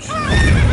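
Roach, Geralt's horse in The Witcher 3, gives a short, loud, close neigh lasting under a second, its pitch wavering as it whinnies.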